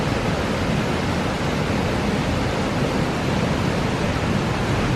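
Kozjak Waterfall in a gorge in Triglav National Park, Slovenia, pouring in a loud, constant broadband roar of rushing water with no voices over it.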